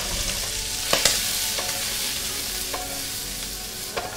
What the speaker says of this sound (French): Un plus d'oignons et de carottes. Et on va faire sauter le tout.